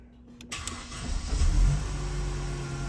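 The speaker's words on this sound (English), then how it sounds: "So actually I have the car running at the minute" A Mercedes C-Class car engine idling steadily with a low running hum, rising slightly after a brief start and then holding constant, close and moderately loud.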